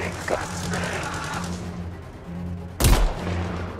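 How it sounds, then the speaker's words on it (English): A mortar fired in a video game gives one loud, sharp blast near the end, standing out against a low rumbling battle backdrop with faint distant shots earlier. "Time to use that mortar. some covering fire."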